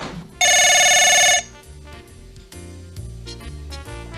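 A telephone bell rings loudly in one continuous burst for about a second, then stops, leaving quieter background sounds.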